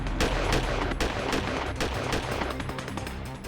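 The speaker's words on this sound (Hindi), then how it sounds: "बीच सड़क पर शूट आउट, AK-47 से पूर्व डिप्टी मेयर पर अटैक" Rapid bursts of AK-47 automatic rifle fire crack repeatedly on a street, loud and sharp, one shot after another in quick succession.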